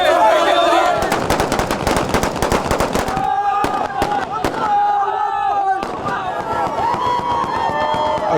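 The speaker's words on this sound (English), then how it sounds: "celebratory gunfire" Celebratory gunfire in a town near Tripoli airport, rapid bursts of sharp cracks and automatic fire, some near and loud, with gaps between volleys and voices shouting in the background.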